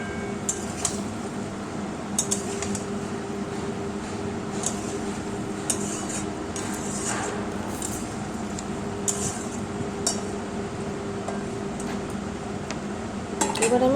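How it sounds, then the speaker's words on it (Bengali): A spatula or spoon clinks and scrapes in a pan of egg and potato curry cooking on a low flame, with repeated metallic taps over a soft, steady background of gentle frying. "এগুলো দিয়ে আমি লো ফ্লেমে ঢাকা দিয়ে 1-2 মিনিট কুক করে নেব।"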